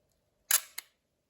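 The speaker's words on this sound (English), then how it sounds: "the shutter stays open longer, and when it's not blocked, you get a much faster shutter speed" An Agfa Optima film camera's shutter fires with a sharp mechanical snap followed by a second, quieter click a moment later, close up and alone against silence.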